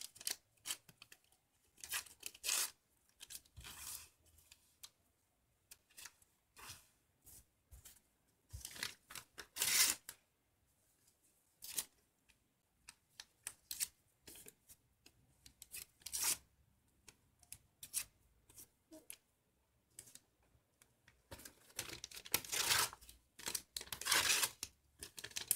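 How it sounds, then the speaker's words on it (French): Tracing paper being torn into pieces by hand, giving repeated short crisp rips and crinkles in irregular bursts, close and fairly quiet with pauses between tears and no talking. "je vais venir déchirer en fait des morceaux de ce papier calque"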